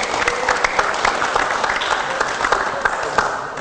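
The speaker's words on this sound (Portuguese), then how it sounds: "Então vamos aplaudir o basquete" An audience claps steadily at a ceremony honoring a century of basketball in Santa Catarina, a dense sustained round of applause with faint crowd murmur and no speech over it.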